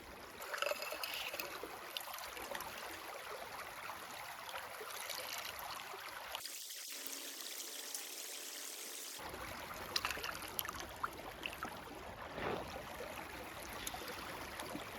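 Continuous trickling water squeezed from a handkerchief pouring steadily into a cup, close and fairly quiet, with a brief break in the low rushing partway through.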